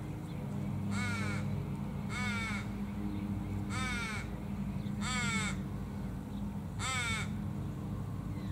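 Australian ravens in a silky oak tree give five loud, evenly spaced harsh caws, each about half a second long, over a steady background hum.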